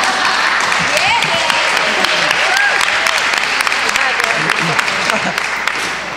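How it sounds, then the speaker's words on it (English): Applause fills a school board meeting room in Highland Park, New Jersey, a steady wash of clapping from the audience that runs loud and unbroken for several seconds, with faint voices mixed in. "I think that actually might be the first time I've said something and people have clapped"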